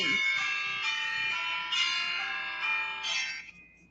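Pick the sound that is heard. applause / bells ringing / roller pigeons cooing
bells ringing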